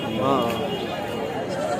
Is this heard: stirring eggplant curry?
no